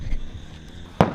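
A single firecracker bursts near the end, a sharp loud crack after a stretch of quiet outdoor background during Diwali celebrations.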